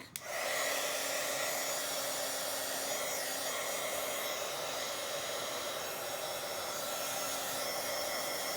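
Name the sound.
hair dryer drying paint on a journal page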